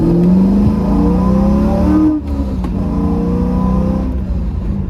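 A car engine hums in traffic, a steady loud drone with shifting pitch as it revs up and down, plus a brief dip in the middle. The sound is close and continuous, with no talking.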